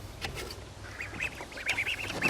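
Several homestead ducks near garden fencing give short nasal quacks, a few scattered calls then a quicker cluster, moderately close over faint outdoor background.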